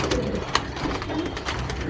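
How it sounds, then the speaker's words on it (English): A Lambadi pigeon, a female flying breed, gives low throaty coos close by, with a soft murmur of voices and other birds in the background. "This bird name is Lambadi."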